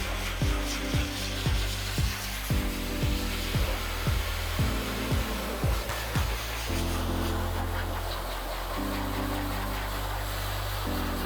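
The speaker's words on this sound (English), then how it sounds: "I'm just lucky he lets me put the blow dryer on full blast." A blow dryer roars at full blast while drying a Labrador Retriever's thick coat, a loud steady whine throughout, with rhythmic thumping or rubbing strokes in the first half.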